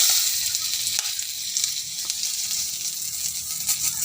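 Panch phoron and a bay leaf sizzling in hot oil, a loud, close, continuous hiss with a few small pops throughout.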